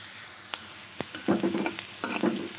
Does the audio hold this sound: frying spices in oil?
yes